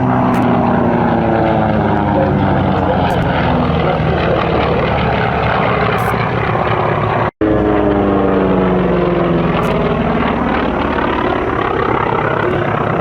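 Propeller aircraft flying at the Duxford Flying Legends airshow, a steady loud droning engine roar with shifting pitch as it passes, continuous and close with no talk.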